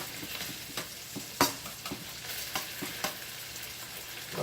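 Mushrooms frying in a pan over high heat, a continuous close sizzle with scattered stirring clicks and one sharper knock.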